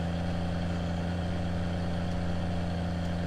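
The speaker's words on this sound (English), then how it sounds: "Sorry if this tractor is extra loud." A tractor engine in a farming video game mod runs steadily and loudly at a constant idle-like drone, with a strong low hum throughout and no talk.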